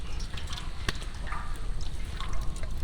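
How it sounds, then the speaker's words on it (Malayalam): Pure cow ghee poured into hot oil in a large uruli vessel for goat mutton biryani, giving a quiet, steady trickling with small drips, faint against background hum. "ആ ഒരു എണ്ണയിലേക്ക് ആ ഒരു നെയ്യ് ഇങ്ങനെ ചേർന്നിട്ടുണ്ട്"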